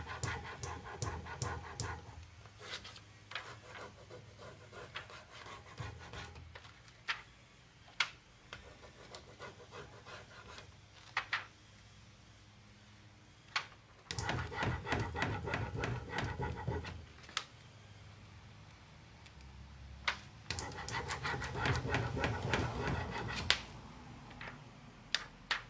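Intermittent scratchy rubbing of a furniture transfer being pressed onto a wooden surface, in short bursts of rasping strokes with quiet gaps between, close and moderately loud, no talking.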